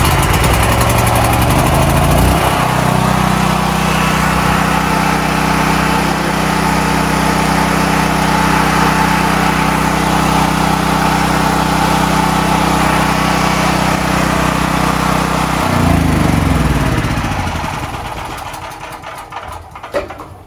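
A small two-year-old Westinghouse portable gas generator engine runs loud and steady, a continuous close droning hum that holds evenly, then the engine winds down and fades near the end.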